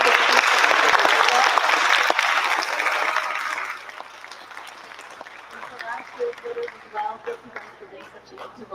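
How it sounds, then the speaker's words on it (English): Audience applause for the speakers at a school civics fair launch, loud and full for nearly four seconds before thinning to scattered claps and murmuring voices. "we just want to give another round of applause to our speakers and Dalia Cabrera today"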